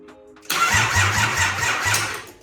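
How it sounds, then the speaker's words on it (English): A Nissan C33 Laurel fitted with a new motor cranks over loud and close: a starter whirrs in a quick, rhythmic churn for about two seconds while the engine tries to fire but does not catch. "I'm only going to try and crank it over for a little bit"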